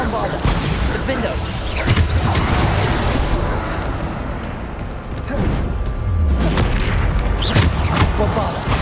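Repeated heavy booms and crashing blasts from the Bombarda explosion spell during combat in Hogwarts Legacy, a series of loud impacts spread across the stretch, with a voice talking over some of them.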